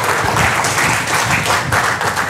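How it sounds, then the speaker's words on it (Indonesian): An audience at a health talk claps together in a dense, sustained burst of applause lasting a couple of seconds, fairly close and without speech. "Wah, tepuk tangan."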